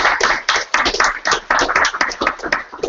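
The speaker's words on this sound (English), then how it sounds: "Guys, can we just give a round of applause for that?" A small group claps in a burst of applause at a salon-style talk, with close, fairly loud, irregular hand claps continuing steadily for a few seconds.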